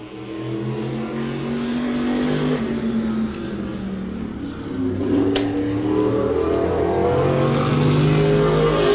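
A modified race car on a qualifying lap at Claremont Motorsports Park, its engine revving hard and rising and falling in pitch through gear changes, loud and close throughout with a sharp burst midway.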